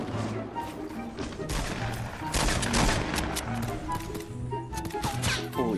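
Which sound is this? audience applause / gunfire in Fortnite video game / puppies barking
gunfire in Fortnite video game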